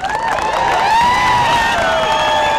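A crowd at a public meeting cheers loudly with sharp, sustained whistles rising and falling together throughout, close and continuous.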